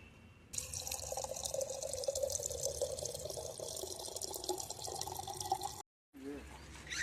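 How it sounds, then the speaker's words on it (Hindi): Water runs steadily into a container for several seconds, a constant splashing stream at moderate volume that cuts off abruptly, followed by a brief burst of movement noise. "इसीलिए यहाँ पर पानी भरेंगे।"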